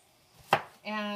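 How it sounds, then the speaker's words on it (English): A knife chops through a zucchini in a kitchen with one sharp, crisp cut, followed by a steady tonal hum, likely a heating pan. "you're basically just going to cut your zucchinis like this."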